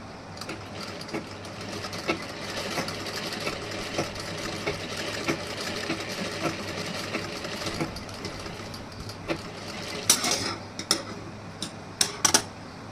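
A sewing machine stitching a tuck on a blouse, its fast needle chatter running steadily close up, then easing into a few sharp mechanical clicks near the end.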